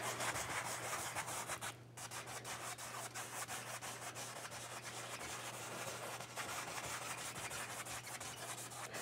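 A paintbrush working paint on canvas in small crisscross strokes to blend two colours, giving a soft, continuous, close rubbing and scratching texture with no talking.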